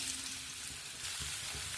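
Chopped, peeled bottle gourd pieces fry in about two tablespoons of oil in a pan, giving a steady, close hiss and crackle with no talk.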